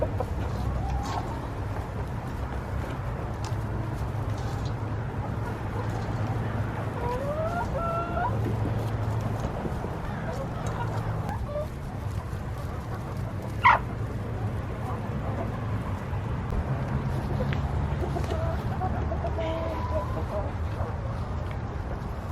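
Chickens clucking steadily inside a newly built backyard coop, soft and close, with a sharper squawk midway and low background noise throughout.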